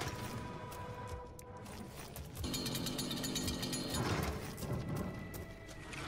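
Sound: chainsaw in Doom video game

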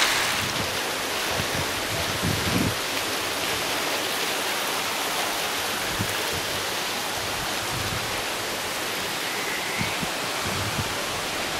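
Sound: water streaming out of many pipes in garden grotto

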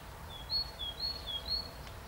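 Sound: birds singing outdoors

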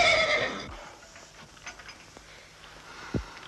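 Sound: horse neighing

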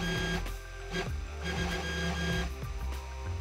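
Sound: 3D printer Z axis moving down, Sunhokey Prusa i3

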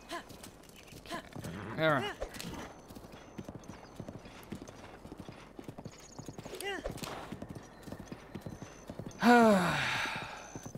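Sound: horse hooves clip-clopping in Zelda Breath of the Wild video game

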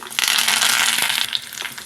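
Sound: mustard seeds, cumin, dried chilli, curry leaves sizzling in oil

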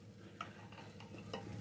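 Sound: stirring baby potatoes into masala

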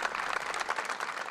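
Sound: applause for the coffins at a funeral

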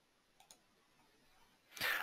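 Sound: computer mouse click

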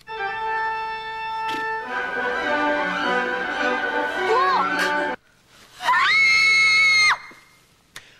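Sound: girls screaming

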